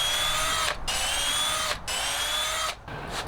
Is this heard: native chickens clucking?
no